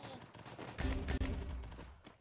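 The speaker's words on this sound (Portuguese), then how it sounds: "Caraca, levei tiro." Gunfire in a Free Fire battle game: a short burst of rapid shots erupts partway through, loud and close, with fainter activity around it.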